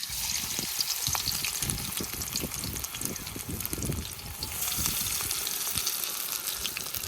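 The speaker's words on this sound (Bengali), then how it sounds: "তেলটা গরম হয়ে গেছে তেলে পাতা দিয়ে দিই" Pumpkin leaves sizzling and crackling steadily in hot oil, a dense close frying hiss with occasional stirring scrapes, no talking.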